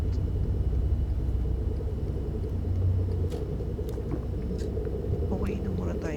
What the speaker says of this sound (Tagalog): Ang dami na dumadaan na sasakyan.